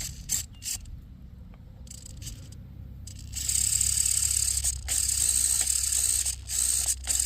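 An RC rig's stripped servo gears grinding and ratcheting, rough mechanical clicks at first, then a harsher, louder whirring grind through the second half, close by with no talk.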